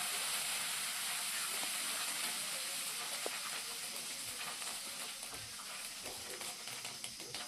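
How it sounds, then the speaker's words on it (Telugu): Urad dal, chana dal, red chillies and curry leaves frying in hot oil give a dense, bright sizzling hiss, loud and close, holding steady with a few faint crackles. "ఇవన్నీ వేసిన తర్వాత వీటిని బాగా ఫ్రై చేసుకోవాలి. కొంచెం కలర్ మారేంత వరకు ఫ్రై చేసుకోవాలండి"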